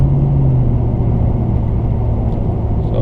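A Nissan Titan fitted with a Spectre cold air intake runs with a loud, steady low engine drone and a slight resonant hum, holding near-constant revs throughout.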